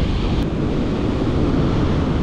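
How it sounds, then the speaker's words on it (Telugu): Sea waves wash onto a quiet, empty beach in a steady, loud roar of surf, mixed with gusting wind buffeting the microphone and no voices. "Just listen to the sound of water"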